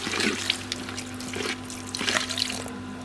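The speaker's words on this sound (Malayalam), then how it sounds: "നമ്മളിതിന് തേങ്ങാപ്പാൽ മാത്രമേ ഒഴിക്കൂ" Thick coconut milk pours into a crab roast seasoned with pepper powder, making a soft, close, trickling liquid sound for a few seconds, with no talk.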